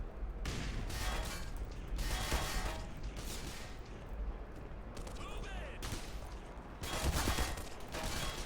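Gunfire aimed at the player's vehicle in the video game Black Mesa, rapid bursts of shots and clattering impacts coming in waves over several seconds, with a voice talking intermittently.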